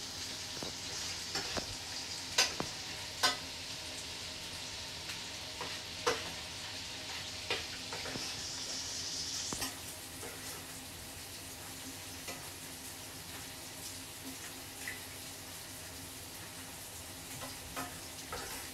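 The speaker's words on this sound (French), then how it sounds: "Je vais mettre un petit peu de beurre dedans" Butter sizzles faintly in a heated pan, a soft steady hiss with a few sharp utensil clicks and taps over it, quiet and close, no talking.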